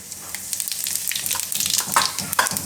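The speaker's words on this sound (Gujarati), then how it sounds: "તો એમાં આપણે પહેલાં નાખીશું થોડુંક જીરું" Cumin seeds hit about a spoonful of hot oil for a Gujarati tempering, setting off a close, steady hiss of dense crackling sizzle that grows busier and louder as it goes.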